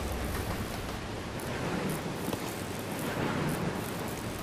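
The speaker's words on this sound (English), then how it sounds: "I wouldn't do that, not during a rain, especially during a rainy storm." A rainy storm in Resident Evil 0, a steady hiss of heavy rain with faint gusty swells, constant and fairly loud throughout, no voices.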